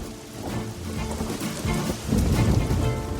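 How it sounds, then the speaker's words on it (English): Heavy storm rain pours steadily and loudly, swelling into a denser rush with a low rumble underneath. "the sky darkened and a storm began"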